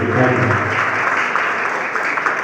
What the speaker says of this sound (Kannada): ಒಂದ್ಸರಿ ಜೋರಾಗಿ ಇನ್ನೊಂದ್ಸರಿ ಚಪ್ಪಾಳೆ